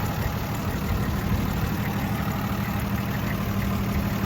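Factory six-cylinder engine of a restored 1961 Jeep Willys wagon 4x4 idling steadily, a smooth, even low rumble heard up close with no talk over it.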